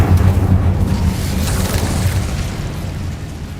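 The Incendio fire spell in Hogwarts Legacy bursts with a loud, deep whoosh and boom that fades into a rumbling roar over a few seconds, with no talking.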